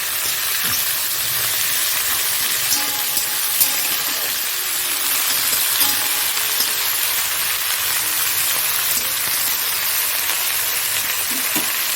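Chopped tomato goes into a Bengali fish curry, and the pan answers with a loud, even, continuous sizzle and crackle that holds steady throughout, close up and with no voices.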